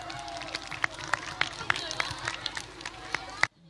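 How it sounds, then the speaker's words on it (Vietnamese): A crowd gives a big round of applause for the judges at the Olympia Music Festival 2015 finale: dense, steady clapping with sharp individual claps standing out, running continuously before cutting off abruptly near the end. "chúng ta hãy dành một tràng pháo tay thật lớn cho họ được không ạ?"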